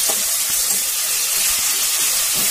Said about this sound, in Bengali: কচুটা ছেঁকে নিয়েছি, ওটা ভাজা হচ্ছে।